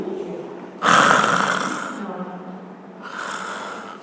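A voice imitates the snoring of a pedicab driver asleep on his becak: one loud, long, rasping snore, then a softer second one after a short gap.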